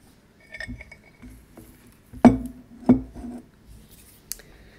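Two sharp clinks of a cat-themed ceramic mug being handled up close, a moment apart, with soft tapping and shuffling noises around them.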